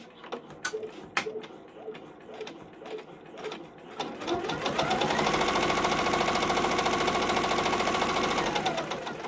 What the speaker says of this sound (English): Now it's going to do the tack down stitch on the edges of the floor.